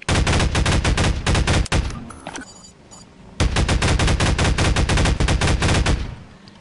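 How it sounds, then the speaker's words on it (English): Rapid automatic gunfire in Garry's Mod comes in two long, loud bursts of rattling shots separated by a short pause. "I'm shooting him."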